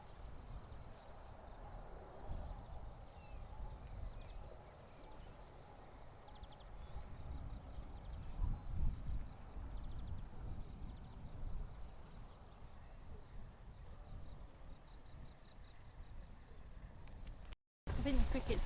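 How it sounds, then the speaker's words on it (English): Crickets chirp in a steady, continuous high trill across a Portuguese homestead in spring, a constant outdoor backdrop with low rumbling ambience beneath it, cut by a brief dropout near the end. "I think the crickets are louder up here anyway."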